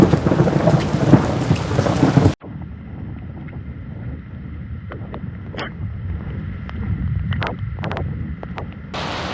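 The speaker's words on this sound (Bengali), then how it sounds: "প্রচুর বৃষ্টি পড়তেছে ভাই প্রচুর বৃষ্টি" A heavy rainstorm with thunder, first a loud dense roar of rain, then a sudden cut to a steadier patter of drops on a surface with a few sharp cracks and knocks.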